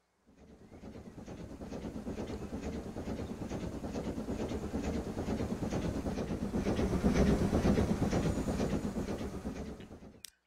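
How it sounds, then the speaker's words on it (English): Express trains in Transport Fever 2 rolling along at about 70 mph, a steady clickety-clack of wheels over rail joints with a faint hiss, building slightly in loudness and then cutting off, with no voices. "my express trains will now run at a much higher rate of speed, about 70 miles an hour"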